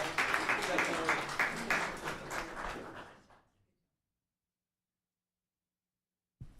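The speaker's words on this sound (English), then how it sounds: "Some applause for our police department." Applause for a town police department at a council meeting: a burst of clapping from the room lasting about three seconds before fading into silence, with a faint sound returning at the very end.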